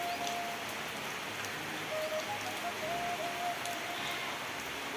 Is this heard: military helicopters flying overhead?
no